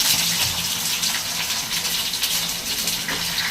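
Chopped onions dropped into hot oil in a home kitchen, giving a steady, loud, broadband sizzle that holds evenly for several seconds with no pauses and no voices.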